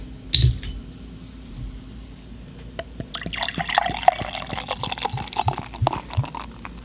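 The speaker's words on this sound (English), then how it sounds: "Their pale ale pours a nice color, little murky, not crystal clear." A 5.3% pale ale is poured from a freshly opened container into a glass. After a sharp crack and a quiet pause, a burst of liquid splashes and clinks with dribbling drips.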